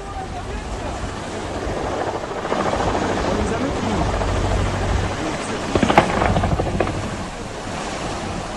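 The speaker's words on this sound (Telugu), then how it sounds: "కూలిపోవడానికి ముందు సముద్రం పైన హెలికాప్టర్ చక్కర్లు కొడుతున్న దృశ్యాలు చూస్తున్నాము" A K-226 military helicopter circles over the sea in Russia, its steady rotor drone blending with roaring wind and surf noise and a brief louder gust partway through.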